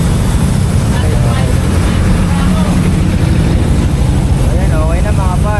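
A Honda BeAT v3 scooter engine runs at a steady idle after wheel rim repair, a constant loud low hum close by under wind-like noise, with people talking over it.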